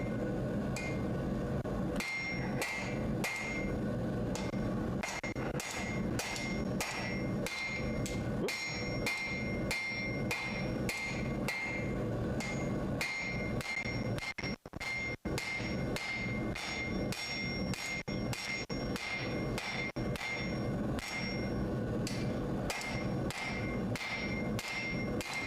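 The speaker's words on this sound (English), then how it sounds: "More forging on that, and I should be able to grip it better." Hammer forging hot metal to square off a bar end, a long run of sharp ringing strikes at a steady, quick rhythm, loud and close, with a short pause midway and no talking.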